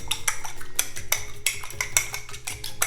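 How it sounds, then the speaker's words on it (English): One egg beaten with a spoonful of half and half or milk in a dish, quick irregular clinks and scrapes of utensil on dish, close up and without speech. "you start with 1 egg and about a tablespoon of half and half or milk. Okay, beat that really good."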